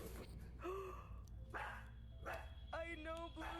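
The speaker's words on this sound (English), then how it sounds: "It's a dog. They bark at things that move." Dog barking in several sharp, close woofs spaced about a second apart, with a voice talking over and between the barks amid steady low background hum.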